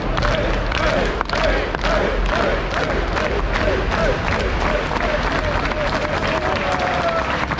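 A live stage-show audience at a Landwirtschafts-Simulator 22 event claps and cheers in a dense, loud, continuous wash, with rhythmic clapping and shouted voices blending throughout.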